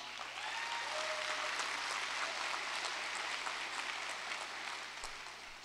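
Sustained applause from a large crowd of families and graduates at the 2022 Connors State College graduation ceremony, a dense, even roar of clapping that holds steady and eases slightly at the very end.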